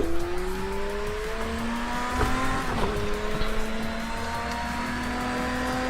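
A Lamborghini Diablo GTO laps the Zolder circuit in snow, its engine droning steadily with rising and falling pitch as it accelerates and shifts, loud and close throughout, with a brief harsher burst midway.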